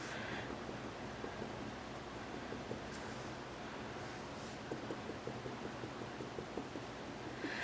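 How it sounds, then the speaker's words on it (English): Heavy storm rain pounds steadily against a window, a constant dense hiss with faint patters, continuous and fairly close throughout with no talking. "it's storming here, and the rain is like pounding the window"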